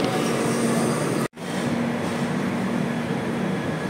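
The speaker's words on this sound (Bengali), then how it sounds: "রাত 9:55 ট্রেন তার পরবর্তী গন্তব্য ফালাকাটা রেলওয়ে স্টেশনের উদ্দেশ্যে রওনা হলো" The down Brahmaputra Mail pulls out of New Cooch Behar station at night, a steady close rumble and rushing roar of the passenger train that carries on after a brief cut.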